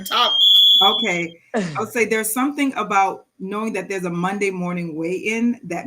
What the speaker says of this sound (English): Hold on, that's my alarm.